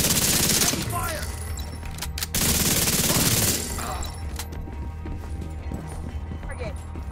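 Heavy gunfire in the video game The Division 2, with dense rapid bursts of shots close by that continue through the whole stretch, under a talking voice.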